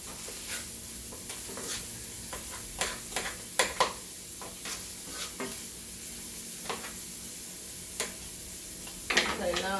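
Ground beef and pork chopped into small pieces sizzle in a pan with a steady frying hiss, broken by repeated scraping and clicking of a spoon stirring, moderately quiet and close.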